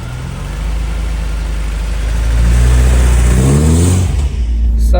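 A golden 1983 Porsche 924 engine pulls up through the revs while driving, a steady loud drone rising in pitch midway before easing off near the end, heard close from inside the car.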